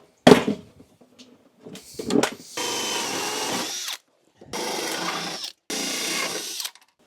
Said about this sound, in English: You've got to be super careful not to knock out the knockouts while drilling through them